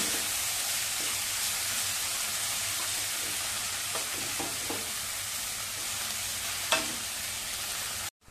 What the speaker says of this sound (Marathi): आता सगळी मेथी घालायची. चांगली आपण परतवून घेऊया.